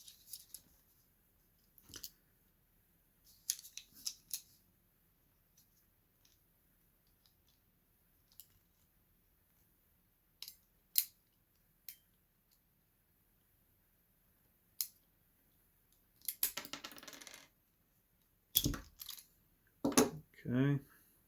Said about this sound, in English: So I'm going to go ahead and strip that.